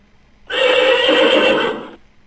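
A single loud, close horse whinny rises sharply and holds for about a second and a half before trailing off, heard alone against a quiet background.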